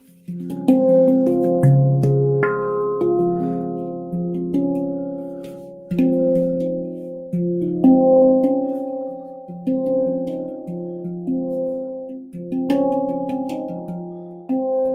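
A handpan played by hand, with a slow, meandering series of ringing struck notes that overlap and sustain, close and clear with no voices.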